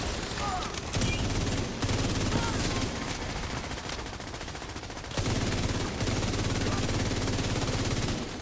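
Rapid automatic gunfire in a video game, dense bursts of shots firing steadily across most of the stretch with a brief lull in the middle, loud and close.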